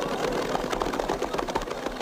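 A tractor engine chugs and rattles continuously at an even pace, fairly loud and close, with no voices.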